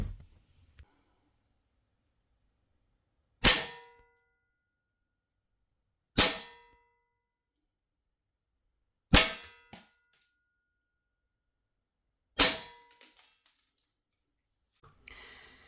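Four sharp, isolated airsoft gun shots ring out a few seconds apart, each a crisp snap with a short metallic tail, over near silence and without any talk.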